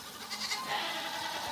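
A goat on a homestead bleats once, a faint, drawn-out wavering cry heard alone over quiet background.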